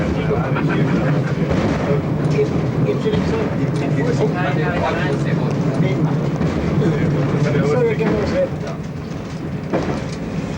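An Austrian class 1044 electric locomotive hauls a 1400-tonne train on the Villach–Jesenice line. From the cab there is a steady, dense rumble with rail clatter throughout, and voices talk over it.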